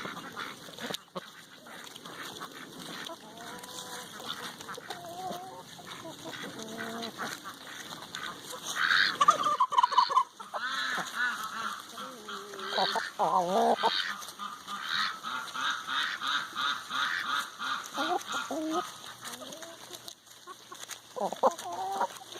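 Backyard poultry flock of chickens and ducks eating sprouted grains, with continuous clucking, quacking and squawks over busy pecking and scuffling, a louder burst of calls mid-way, close and lively throughout.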